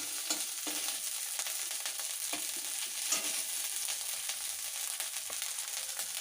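Mashed potato tossed into a pan of frying ginger and green chilli for aloo chop filling, giving a steady close sizzle with scattered soft scraping stirs throughout, no voices.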